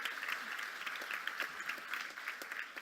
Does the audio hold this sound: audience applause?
yes